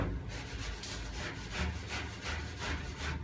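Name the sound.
rubbing down stone chip coating on a classic Mini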